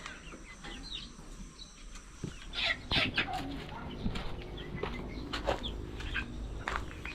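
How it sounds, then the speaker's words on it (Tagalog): Young farm chickens cluck and squawk in scattered bursts around a backyard pen, fairly close, with occasional wing flaps amid low background noise. "Medyo lumalaki na yung ating mga manok ah."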